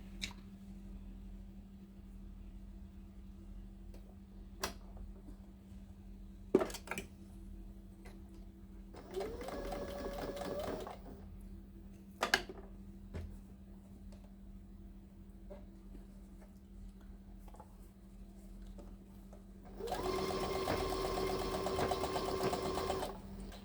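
A sewing machine stitches a headcovering in two short bursts, one around ten seconds and a longer run near the end, with quiet handling clicks between them.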